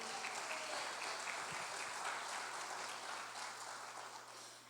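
A church congregation bursts into sustained clapping in praise of the Lord, a thick, even patter of many hands lasting a few seconds over a faint low electrical hum, tapering off toward the end.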